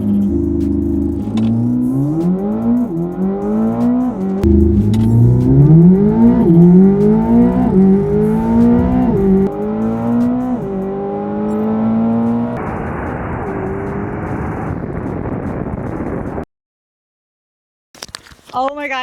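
A Corvette ZR1 launches hard down a quarter-mile strip, its loud engine climbing through repeated rising gear pulls with sharp shift breaks, then cutting off abruptly, heard from inside the car.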